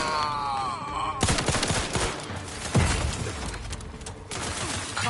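Gunfire in Outer Worlds 2 breaks out in a dense, rapid volley of shots, with bursts and impacts layered over game ambience, a brief groan-like sound mid-way and sporadic echoes.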